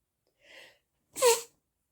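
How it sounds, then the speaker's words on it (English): A single sharp sneeze, preceded by a short breathy intake, close and fairly loud, then silence. "I'm gonna sneeze."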